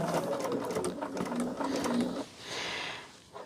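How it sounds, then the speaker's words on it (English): A sewing machine joins two quilt blocks in a fast, close, even chatter of stitching that halts briefly before a short final run. "this is third time I am sewing these two together"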